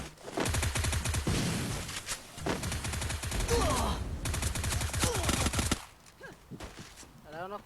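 Rapid automatic gunfire and repeated shots from a video game sound in long bursts, close and loud. Excited talk and game effects mix in until the firing stops near the end.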